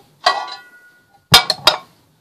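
Metal baking tray fetched and handled in a home kitchen while a fish dish is prepared: a single sharp clink, a pause, then a quick cluster of three bright metallic clatters, close and clear.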